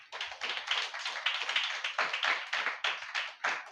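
Rhythmic group clapping at a live Holy Communion church service, a dozen or so crisp claps in a steady beat, close and clear with no talking over them.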